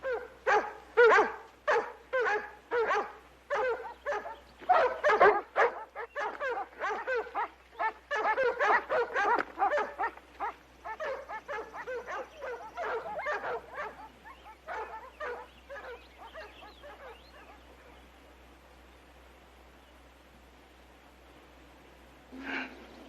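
Several dogs bark in rapid, loud bursts, with yips and whimpers mixed in, in an outdoor Western scene; the barking thins out and fades to near quiet toward the end.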